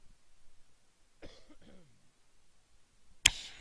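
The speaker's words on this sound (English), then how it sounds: "Sorry, I've got a cough." A single sharp cough bursts out near the end, close and abrupt, after a stretch of quiet with a brief murmur earlier.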